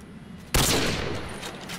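A sudden loud burst of gunfire in the VR shooter Contractors VR breaks in after a quiet moment, then rings out and decays over a steady background.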